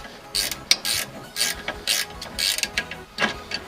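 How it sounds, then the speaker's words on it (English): Ratcheting clicks from a tool undoing the nut on an adjustable drop link of a Nissan 350Z while the thread is held still, a series of short bursts with brief pauses, close and clear. "Now it's holding the thread still while the nut's being undone."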